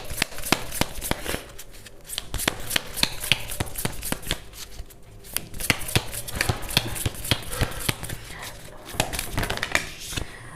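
A deck of tarot cards shuffled and drawn during a reading, with dense, rapid riffling and snapping card sounds close up throughout and no talking.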